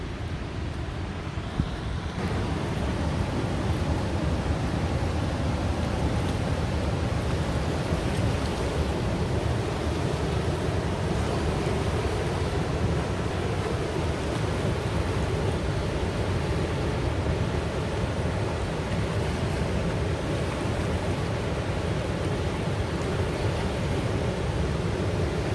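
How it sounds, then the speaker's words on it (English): Floodwater pours through the opened floodgates of a dam at St George, Queensland, making a constant, loud roaring rush like heavy surf that goes on without a break. "they opened the floodgates yesterday. We cannot believe the water that is coming through."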